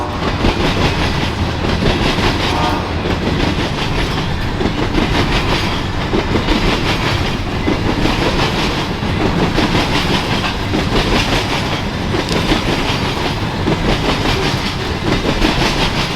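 A train rolls through Deshler, Ohio, a loud continuous rumble with steady clickety-clack of wheels on rail joints lasting the whole stretch, close by and with no voices.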